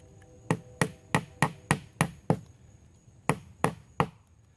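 A stake is hammered into the ground while a snare is being set: seven sharp, evenly spaced blows, a short pause, then three more, each a crisp close impact.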